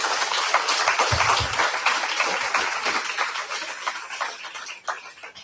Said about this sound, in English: Let's do the round of applause